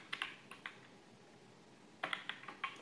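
Typing on a computer keyboard while entering C code for a single-dimensional array program, heard as two short bursts of quick, crisp key clicks separated by a quiet pause, close and alone.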